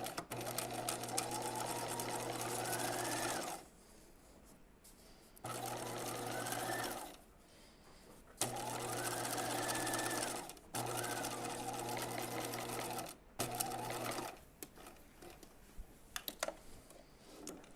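A sewing machine back stitching on jeans, running in several steady bursts of a few seconds each with short pauses between, close and fairly loud.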